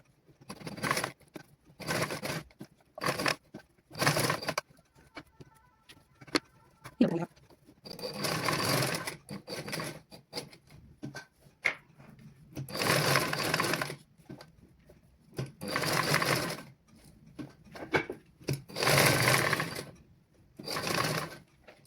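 A sewing machine stitches fabric around a curved section and square corner in bursts of rapid mechanical whirring, close by, separated by short pauses with light handling noises.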